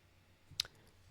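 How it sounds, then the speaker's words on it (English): A printer gives a single short, sharp click in a quiet room, with faint background hum before and after. "That's the printer, guys."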